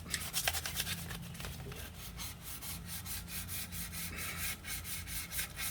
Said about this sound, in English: I'm just gonna lightly sand these a little bit